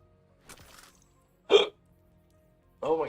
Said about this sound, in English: Oh my God, the hiccups.